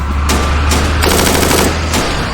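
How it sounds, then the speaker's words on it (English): Video game gunfire in WinSPWW2, enemies shooting from the trees: loud, close bursts of rapid machine-gun fire, three or four clattering volleys in quick succession. "where are they shooting from?"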